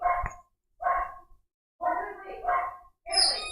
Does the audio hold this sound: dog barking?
yes